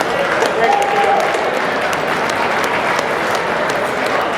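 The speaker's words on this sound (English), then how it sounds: "let's give a great round of applause for our troops who are still here" A crowd at a charity event applauds troops, with dense, steady clapping and some crowd noise throughout at a loud, even level.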